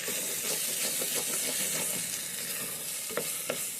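Salt, chili powder and coriander powder are stirred into a mashed paneer masala in a hot pan, a steady sizzle with soft scraping strokes of the spoon close by.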